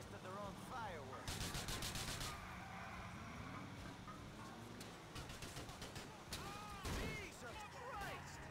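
Gunfire and explosions in Grand Theft Auto 4 fill a busy game scene, with rapid bursts of shots, booms and engine noise under the voices of characters talking.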